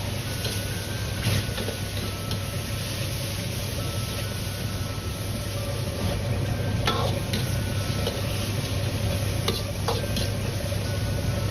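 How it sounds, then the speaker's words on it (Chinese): King oyster mushrooms are stir-fried in a wok with scallion, ginger and garlic, giving a steady loud sizzle with scattered soft clinks and scrapes of a spatula throughout, with no talk. "炒香后倒入炒过的杏鲍菇，继续翻炒几下"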